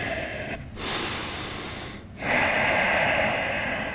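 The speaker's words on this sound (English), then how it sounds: "Take another breath" Heavy, noisy breaths during a standing balance exercise, knee raised and shoulders back: two long broadband exhalations with brief pauses between, close and fairly loud, with no talking.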